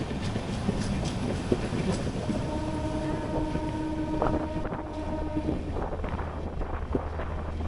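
Howrah to Digha local train running after leaving Phuleswar station, a steady rumbling rail roar with wheel clatter and a faint whining hum throughout, wind noise over the microphone.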